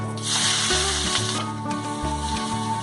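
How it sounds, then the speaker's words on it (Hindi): Finely chopped onion frying in hot oil while a spoon stirs it, a dense sizzle with scraping, rubbing strokes against the pan, close and continuous without talk. "प्याज को हम गोल्डन कलर आने तक फ्राई करेंगे, साथ साथ चमचा चलाते रहेंगे ताकि इवन कलर आए प्याज में।"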